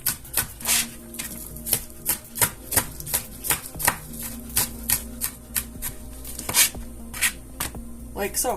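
Hot boiled potatoes being cut up on a board, a steady run of sharp knife chops at an uneven rhythm, close and clear, with a few words of speech.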